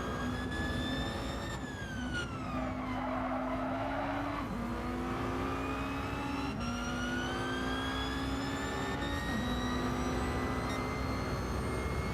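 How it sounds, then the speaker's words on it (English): Gr.1 prototype race car engines in Gran Turismo 7 lobby racing scream and rise through gear changes for the whole stretch, with loud, steady harmonic whine and brief tire squeal, no talking. "Just listen to that engine."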